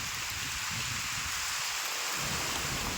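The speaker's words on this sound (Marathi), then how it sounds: "बघा पाऊस पण लागला इकडं" Heavy, steady rain pours down with a deep rumble of thunder rolling underneath, loud and continuous with no voices.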